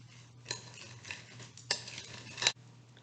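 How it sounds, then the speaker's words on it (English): Diced onion being stirred into a cheesy potato casserole mixture in a bowl, with a few soft scraping and clinking strokes of a utensil at an uneven rhythm over a steady low hum, close and fairly quiet. "And we also add those, and just mix them."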